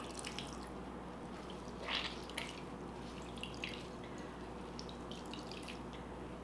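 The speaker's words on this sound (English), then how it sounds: "we're just gonna drain all the moisture out here" Water squeezed from grated zucchini drips and trickles in small, quiet splashes over a steady background hiss, with one brief louder spatter partway through.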